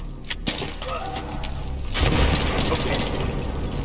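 Battlefield 3 combat erupts with a grenade blast followed by rapid bursts of gunfire, loud and close, with shouting voices mixed in.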